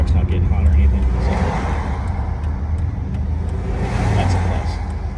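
A loaded truck rolls through stop-and-go traffic with a steady close engine rumble and road noise, a passing vehicle whooshing by partway through.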